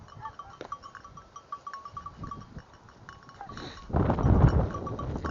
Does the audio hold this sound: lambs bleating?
yes